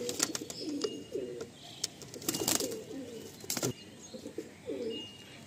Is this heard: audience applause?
no